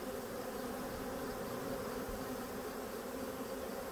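Honeybees swarm around an open hive during a late-season inspection, a dense, steady buzzing drone that stays constant throughout with no voices.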